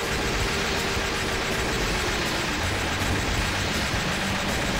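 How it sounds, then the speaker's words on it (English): Armored trains attack in the run-and-gun arcade game Metal Slug X, a dense, steady rumble of rolling train machinery with clattering wheels that fills the whole stretch at constant loudness. "now I gotta fight more of these trains"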